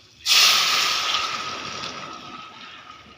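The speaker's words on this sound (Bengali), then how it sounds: "হয়ে গেছে, এবার ডালটা ছেড়ে দিচ্ছি।" Dal lentils are tipped into a hot pot of fried spices, starting with a sudden loud sizzling hiss that fades gradually into a steady, softer bubbling sizzle over a few seconds.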